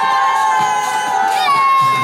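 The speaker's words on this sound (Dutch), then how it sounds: "Applaus voor Obius de Cirkel." A dense crowd, many of them children, cheers and shouts continuously at a school trophy ceremony, loud and close.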